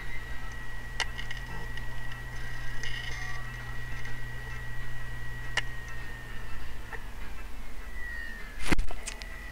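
Close, steady whirring whine and low hum from a failing 1TB hard disk drive, punctuated by a few sharp clicks spaced seconds apart, then the pitch sags as it powers down and ends in a loud clunk.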